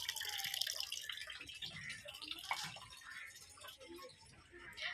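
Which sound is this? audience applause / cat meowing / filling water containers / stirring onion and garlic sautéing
filling water containers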